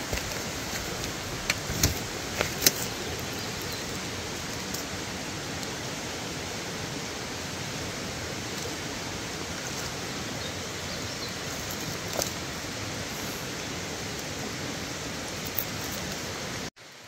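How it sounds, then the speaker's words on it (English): Rain falls on a forest campsite beside a creek where a 2007 Mercedes-Benz GL450 is parked, a steady soft hiss lasting throughout with a few faint ticks and no talking. "Now it started raining."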